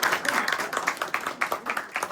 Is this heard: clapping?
yes